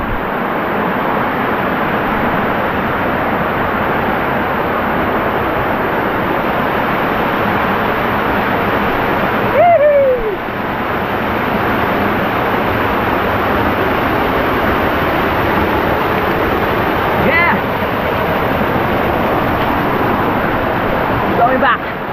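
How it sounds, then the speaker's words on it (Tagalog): A strong river current rushes loudly and continuously, close by and steady throughout, with a brief voice heard at one point. "Lakas ng agos."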